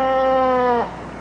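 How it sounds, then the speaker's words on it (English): A goat lets out a single loud, drawn-out bleat close by, its wavering harmonic cry lasting under a second before cutting off into quiet. "Let's hear what that goat sounds like now."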